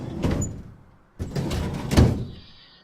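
Drawers sliding open and shut in the adventure game Tesla Effect: A Tex Murphy Adventure, two broad rumbling slides about a second apart, close and moderately loud, with a faint tone lingering after.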